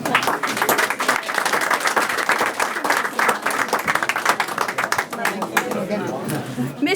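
An audience at a school board meeting claps in thick, lively applause that carries on throughout, with some chatter and voices mixed in.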